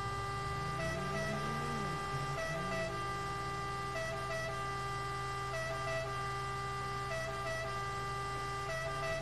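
An ambulance siren in a roleplay driving game wails steadily and loudly through the whole stretch, its rising and falling tone repeating without a break.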